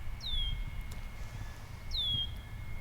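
A bird perched at the very tip of a branch gives two sharp, descending whistled calls about two seconds apart, clear above a low, steady outdoor rumble, with no talk.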